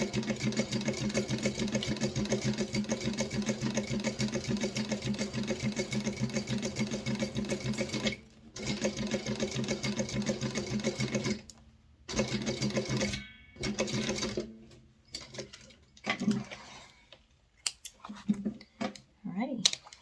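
A sewing machine back-stitches a seam on a minimalist fabric wallet, running in steady bursts of rapid mechanical stitching that stop and restart through the second half, with a person talking at times between runs.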